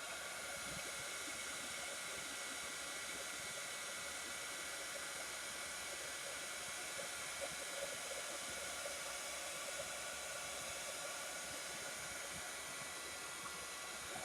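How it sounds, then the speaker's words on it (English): Steady, loud hot-air roar of a heat embossing tool held close, melting embossing powder on a handmade Christmas card, a continuous broadband hiss with no talk. "So you're just going to heat emboss this until it is melted."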